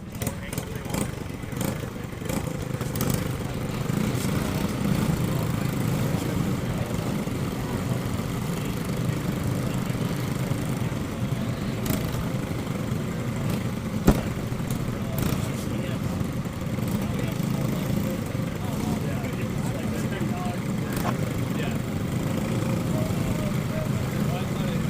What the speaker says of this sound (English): karts are about ready to be released for the 16-lap Ignite Junior Final